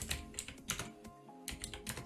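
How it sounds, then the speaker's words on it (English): Fast, steady typing on a computer keyboard while entering a profile link, the keys clicking in quick, uneven bursts close by with a brief pause midway. "So I'm just going to type in mine,"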